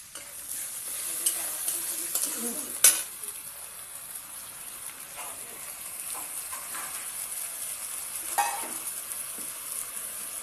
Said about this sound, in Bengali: আদা রসুন বাটাটা দিয়ে একটু কষবো